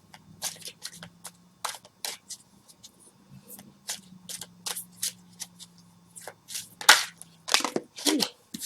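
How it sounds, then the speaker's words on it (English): Brand new wisdom cards are shuffled by hand in a quiet room, a string of short riffling bursts and soft slaps in irregular rhythm, close and fairly faint. "let me go ahead and shuffle here"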